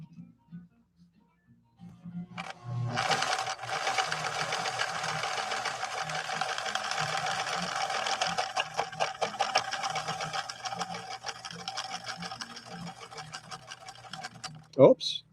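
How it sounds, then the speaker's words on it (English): A 1964 Viking Husqvarna 19E sewing machine running a blind hem stitch, with a close, steady mechanical whir and rapid rhythmic needle clatter that continues for about twelve seconds after a few soft handling clicks, ending with a sharp knock. "Okay, so now we're going to lay down a blind hem stitch."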